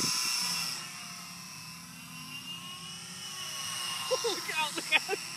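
A weather reconnaissance model aircraft powers up, its small motor whining in a steady high drone that holds throughout, with bursts of voices and brief clatter toward the end.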